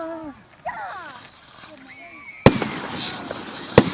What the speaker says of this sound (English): That was a good firework right there.